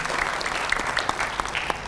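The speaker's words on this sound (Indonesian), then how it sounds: "tepuk tangan untuk Nadia." Audience applause for Nadia, a presenter being introduced on stage at the Unika Atma Jaya website launch event, steady clapping from a crowd throughout with a few sharper individual claps standing out, no voices.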